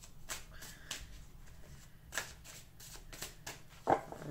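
Tarot cards are shuffled and handled in a series of soft, brisk riffling flicks and slaps, close and fairly quiet, with no talking.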